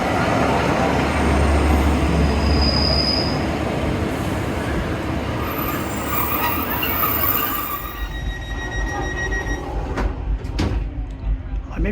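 A passenger train pulls into the station at Dawlish, a loud rolling rumble with high wheel squeal that slowly eases as it slows, and a voice talks over it.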